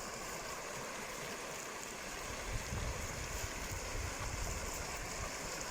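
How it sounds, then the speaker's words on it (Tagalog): Running water flowing through a stream in a desert setting, a steady broadband rush with low rumbling surges, fairly close and continuous without any voices. "Ang sarap pakinggan ng agos ng tubig."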